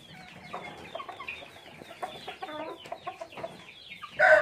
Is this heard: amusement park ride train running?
no